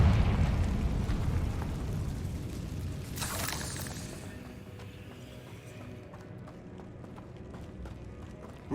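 A Confringo blasting spell explodes in Hogwarts Legacy, a short, sharp burst landing a few seconds in over a steady, low rumbling background that slowly fades; no one speaks.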